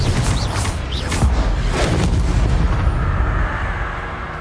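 A Confringo spell explosion in the Hogwarts Legacy video game, a broad, loud rumbling blast with booming low end that rolls on steadily for several seconds, with no talking.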